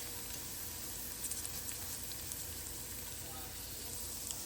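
Thinly cut onions frying slowly in butter in a pan on a stove at low heat, a steady, soft, even sizzle that continues without break.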